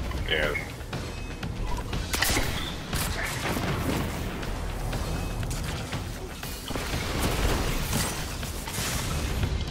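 Grenade blasts in a Destiny 2 Grandmaster Nightfall firefight, with repeated booming bursts over dense continuous gunfire and game noise while players talk throughout.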